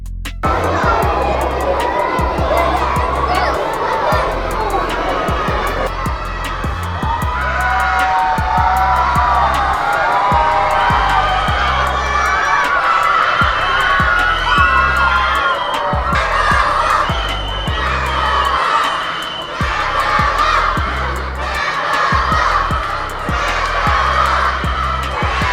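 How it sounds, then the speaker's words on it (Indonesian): Schoolchildren at an elementary school in Jati, Pulogadung, shout greetings and cheer from the second and third floors, a loud, sustained crowd of high voices rising and falling in waves with overlapping screams. "Prabowo dan Bill Gates disambut riuh teriakan siswa-siswi yang menyapa dari lantai 2 dan 3"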